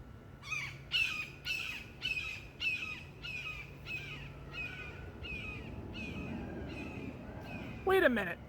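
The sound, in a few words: bird call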